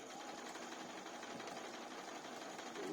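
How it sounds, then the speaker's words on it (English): A sewing machine stitching prefolded double-fold bias binding to fabric, catching the back and front in one pass. It gives a close, steady, fast mechanical whir that runs without a break. "sew the back and front at the same time, at exactly the same width"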